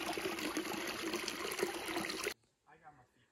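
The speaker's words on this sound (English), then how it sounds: "Natural spring creating a little tiny waterfall." A small natural spring spills down as a tiny waterfall outdoors on a hike, a steady close rush of splashing water that cuts off abruptly, followed by a short quiet bit of talk.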